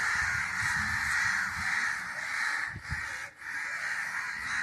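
Crows caw loudly and continuously, a dense overlapping chorus of harsh calls from a large flock nearby, with brief dips in the noise.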